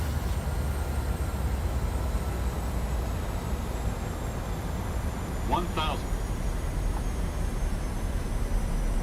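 Airliner engines in Microsoft Flight Simulator, a steady broad roar with a thin high whine, joined by a brief chirping alert in the middle, while a person talks over it.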